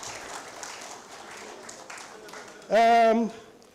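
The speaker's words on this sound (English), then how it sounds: "Can I see you clapping?" Audience members clap at an association's annual general meeting held in a church-like setting. Soft, scattered clapping runs in the background before a loud voice cuts in near the end.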